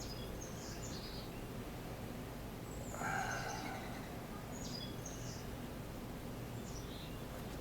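A few faint, distant bird chirps ring out sporadically over a steady outdoor hiss, with no one speaking.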